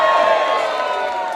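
Comedy club crowd at the Frog and Bucket on a sold-out Monday night roars and whoops in a short, loud burst of cheering that fades slightly toward the end.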